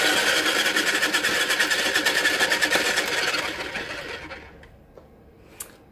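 Homemade paint pour spinner whirring steadily for a metallic peacock spin pour, a loud continuous mechanical hum that winds down and fades after about four seconds, followed by a faint click.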